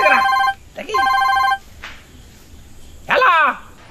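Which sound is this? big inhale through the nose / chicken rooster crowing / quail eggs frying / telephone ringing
telephone ringing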